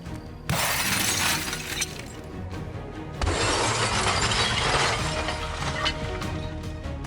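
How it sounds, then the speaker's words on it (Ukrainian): A television's glass shatters loudly in a sudden burst when hit by a giant slingshot shot, followed by a second crash of breaking glass a few seconds later, with debris tinkling and settling. "Другий постріл потрапив точно в ціль, і телевізор розлетівся вщент."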